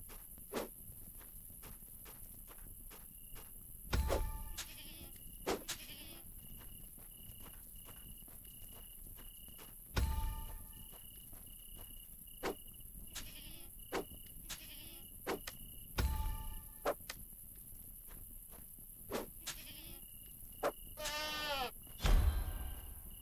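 Goats in the video game Wild Terra 2: New Lands bleat in short, sharp cries every few seconds over a steady background hum with insect-like chirps, while soft game footsteps and clicks tick along throughout.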